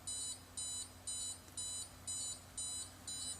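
An Arduino alarm system with a SIM800L GSM module triggers a phone's SMS notification, a quiet, rhythmic series of seven short electronic beeps spaced about half a second apart over a faint background hum.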